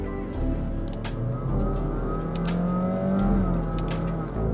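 A 2021 Honda City RS e:HEV hybrid accelerates at full throttle, its drivetrain rising in a steady climbing whine under the cabin, with a few faint clicks scattered on top.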